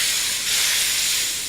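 Hot sauce boiling in a pan sends up a loud, steady hiss and sizzle that stays even throughout, with no talking.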